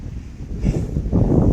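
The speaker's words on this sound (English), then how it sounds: "We got windy conditions up here." Wind buffets the microphone near the top of Mount Baden-Powell in the San Gabriel Mountains, a loud, low rumbling roar that swells and gusts continuously through the moment.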